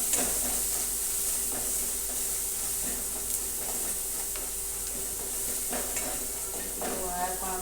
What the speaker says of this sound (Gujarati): હવે આપણે નાખીશું મરચું તેને પણ બરાબર આપણે મિક્સ કરી દઈશું